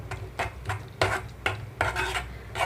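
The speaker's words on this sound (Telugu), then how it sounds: "తాలింపంతా కలిపేస్తున్నాను" A spoon stirring tempering into tamarind leaf and tomato chutney, scraping against the pot in about seven soft, rhythmic strokes, close and quiet with no talk.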